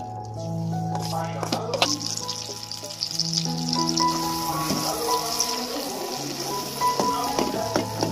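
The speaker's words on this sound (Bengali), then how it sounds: "তারপরে ডাল বাটা দিয়ে 5 মিনিট ভালো করে নাড়ব।" Chana dal paste frying in two spoons of ghee in a kadai while being stirred, a steady close sizzle with scraping stirs and some background clatter and hum.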